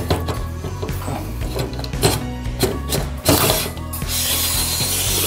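Plastic clip locks slide and click onto the rail of a 40-inch Selens Easy Station camera cart, giving a close series of ratcheting clicks and rubbing scrapes, with a louder grinding rattle toward the end.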